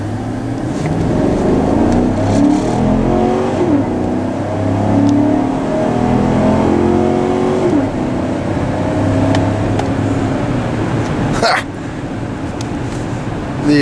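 A Can-Am Maverick X3 XRS side-by-side accelerates hard from 0 to 60. The loud, close engine climbs steadily in pitch through repeated rising sweeps, with a sharp clack near the end.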